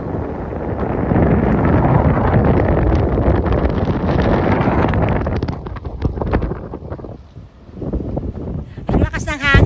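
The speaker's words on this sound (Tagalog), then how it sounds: "Ang lakas ng hangin, oh." Strong wind buffets the microphone at Porteau Cove seaside beach, a loud roaring rumble for most of the stretch that eases toward the end, with a voice heard briefly amid the gusts.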